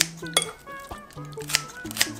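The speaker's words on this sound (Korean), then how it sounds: "가위로 조금 이렇게 숭둥숭둥 잘라줄게요." Kitchen scissors roughly cut leftover holiday namul, spinach and bracken, in a bowl with a few quick, close, crisp snips spaced unevenly over about two seconds, with light clinks between them.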